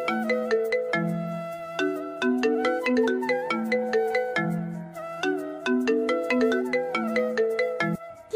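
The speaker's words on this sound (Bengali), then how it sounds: "কিছুক্ষণ পর আদিবা ফোন দিল" A phone ringtone for an incoming call plays a bright, repeating chime melody in clear cycles, loud and close, with no voices.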